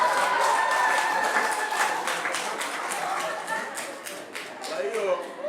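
A church congregation claps hands together, a burst of fairly close, rhythmic applause that gradually thins out over a few seconds.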